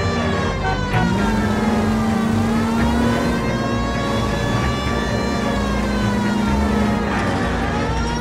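A police siren wails loud and close as a car races at speed in the L.A. Noire video game, the tone sweeping steadily up and down over a continuous engine roar, with no talking.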